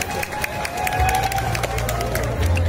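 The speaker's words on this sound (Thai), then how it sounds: "ขอเสียงปรบมือดังๆหน่อย" Energetic clapping and crowd cheering rise from a pageant audience at a Thai Loy Krathong beauty contest, with a low rumble and a host's amplified voice underneath the noise.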